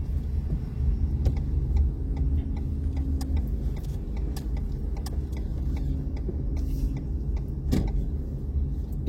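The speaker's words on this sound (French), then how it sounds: "Clignotant." A car's turn signal ticking in a regular, evenly spaced rhythm inside the cabin during a driving-test practice drive, faint clicks over a steady low engine rumble, with no talk.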